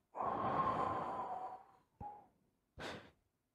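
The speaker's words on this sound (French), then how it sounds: "Alors on va faire une respiration." A deep breath taken during a breathing exercise, a long audible exhale, then a brief catch of breath and a final short sharp inhale, close and quiet.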